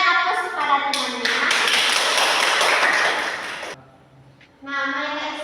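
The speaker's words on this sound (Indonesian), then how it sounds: "berikan aplaus kepada temannya." Classroom applause for a classmate: a burst of clapping from many pupils lasting a few seconds, with a teacher's voice speaking before and after.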